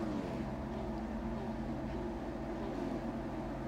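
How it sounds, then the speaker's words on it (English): Racing car engines idling together on the starting grid at Brands Hatch in the Grand Prix Legends video game, a low, steady, faintly distant drone of several motors blending into one hum. "You can hear the engines begin to harmonize."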